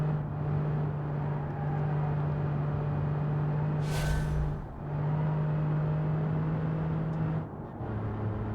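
French three-cylinder car engine in BeamNG.drive holding a steady, droning hum at near-constant revs, briefly dipping around the middle with a short hiss before the note resumes, then dropping to a lower pitch near the end.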